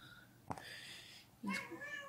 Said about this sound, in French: il y a le chat qui commence à gueuler